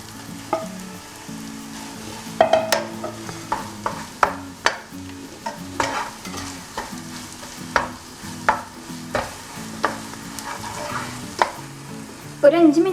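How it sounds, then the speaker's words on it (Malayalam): Marinated chicken frying in biryani masala as it is stirred, a loud close sizzle punctuated by regular scraping and clacking spoon strokes roughly every second, with no voices. "ഇതിലേക്ക് ഞാൻ നമ്മൾ മാരിനേറ്റ് ചെയ്ത് വെച്ചിട്ടുള്ള ചിക്കൻ ഇട്ട് കൊടുക്കുകയാണ്"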